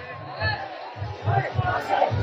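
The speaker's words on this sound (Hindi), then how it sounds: "देखिए कितनी भीड़ है" Crowd of people at the Kailash temple fair (mela) in Agra, a dense murmur of many voices with bursts of nearby talk, fairly loud and continuous throughout.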